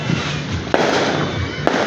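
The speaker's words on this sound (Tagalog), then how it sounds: "Marami silang paputok ka, no?" New Year fireworks and firecrackers going off nearby, two sharp bangs cutting through a constant crackling, popping background.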